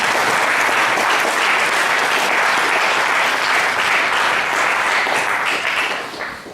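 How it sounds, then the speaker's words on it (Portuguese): A congregation at a revival service gives a loud, dense round of applause to welcome guests. The clapping is sustained and steady, then fades slightly at the end. "Vamos recebê-los com uma salva de palmas."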